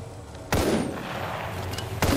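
Gunfire in the video game Apex Legends: two sharp, loud shots about a second and a half apart, each with a quick decaying tail over a low ambient game background.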